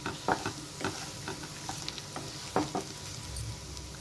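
Soya chunks (meal maker) fry in oil with a soft, fairly quiet sizzle, broken by light scattered clicks and scrapes of stirring.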